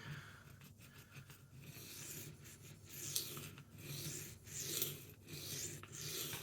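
A knife blade stroked on a new diamond sharpening stone while working up a burr, giving repeated soft rasping scrapes that rise and fall in rhythm, close and fairly quiet, with no talking.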